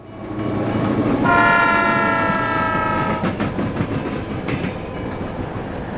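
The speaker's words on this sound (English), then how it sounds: "the B&O train has passed FN Tower in Trenton, and we catch it approaching a steel mill north of town" A B&O passenger train approaching a steel mill north of Trenton, its horn sounding a loud sustained chord over the heavy rumble and clatter of the cars, which roll on steadily after the horn stops.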